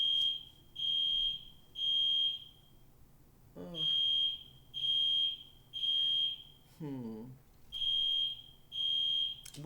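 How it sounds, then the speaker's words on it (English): A fire alarm sounds indoors in a repeating pattern of loud, evenly spaced electronic beeps, about eight in all, broken by a couple of brief thumps and bumps between them. "That's the fire alarm."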